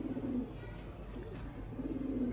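Sialkoti pigeons coo softly in low, rolling murmurs, a few overlapping calls close by against faint background noise.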